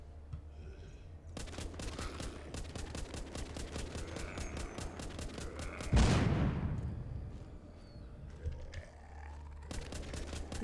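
Rapid gunfire bursts crackle continuously in the zombie survival game Walking Zombie 2, broken by a single sudden bomb explosion midway that booms and fades, with quieter rattling shots resuming afterward.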